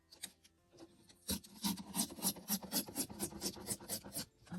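A vintage greeting card is trimmed down into a tag with a steady run of close, soft rasping cuts, quiet and rhythmic, with no voices.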